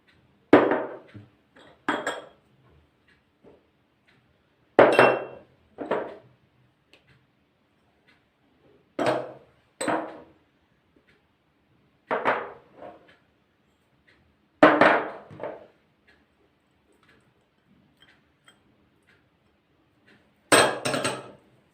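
Bulgur köfte ingredients go into a mixing bowl in a home kitchen, with sharp knocks and clinks of utensils and containers against the bowl, arriving in short separated bursts with quiet gaps between them.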